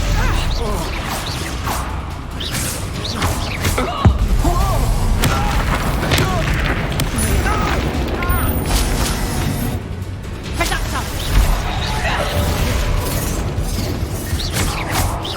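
Confringo blasting spells firing off in Hogwarts Legacy, a dense run of booming explosions and whooshes in a busy combat scene, with a strong burst near the four-second mark, while voices shout over the fight.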